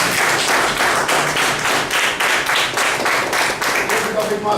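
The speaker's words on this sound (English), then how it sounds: "Let's give the speaker and the evaluator a big round of applause." A meeting audience applauds a speaker and evaluator, with rhythmic, fairly loud group clapping in regular pulses for a few seconds and faint voices underneath.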